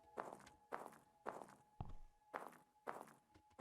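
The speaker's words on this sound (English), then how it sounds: "Different sounds for different footstep falls." Footsteps in a video game, about seven evenly spaced, moderately loud steps with a faint tonal hum behind them and one heavier thud midway.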